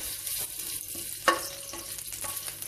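Ginger slices fry in a hot pan for squid adobo, giving a steady close sizzle with a few sharp crackles and a brief louder pop partway through.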